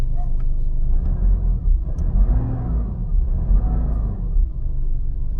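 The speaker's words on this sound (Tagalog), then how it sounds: "Rev natin." An engine revs in repeated swells, a deep rumble rising and falling in pitch about three times, close and loud with no voices over it.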